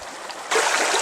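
A mountain creek flows in a steady broadband rush that grows suddenly louder and nearer halfway through, with no voices.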